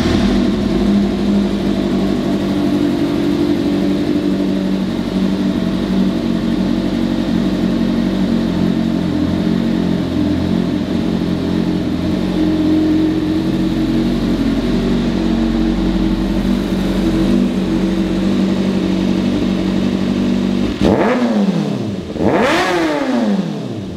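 A 2021 Kawasaki Ninja ZX-6R with about 12,957 on the odometer idles steadily at close range, a continuous rough engine drone that ends in two sharp rising and falling revs near the end.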